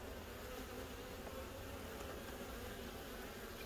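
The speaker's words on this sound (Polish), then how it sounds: "pszczółki latają, także troszkę tej pszczoły na pewno jest jeszcze w terenie" Honeybees fly around a hive in a continuous, dense buzzing drone that stays steady and faint throughout, with no voices.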